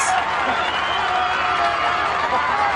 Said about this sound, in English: The crowd is demanding it. Can you hear them?